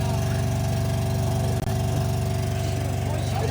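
A UAZ-469 old military vehicle's engine runs steadily at a low idle-like drone, close and constant, with a brief dip partway through and no clear talking.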